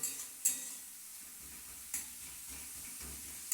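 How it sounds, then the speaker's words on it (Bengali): Grated carrot fries in ghee with a soft, steady sizzle, punctuated by a few faint scraping stirs of the spoon against the pan at intervals. "এবার ঘিয়ের মধ্যে গাজরটাকে ভালো করে ভেজে নিতে হবে"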